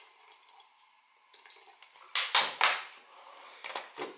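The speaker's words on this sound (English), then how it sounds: "I'm going to try and put in about 40-45 grams of water" Water poured into a sourdough starter jar, about 40 to 45 grams, heard as a few soft splashing pours and trickles up close in a quiet kitchen, with small drips and clinks around them.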